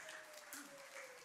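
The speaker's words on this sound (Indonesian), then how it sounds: "Yang setuju berikan tepuk tangan buat Tuhan." Church congregation applauding during a sermon, a steady wash of clapping with a sustained tone held underneath, fairly faint and continuous.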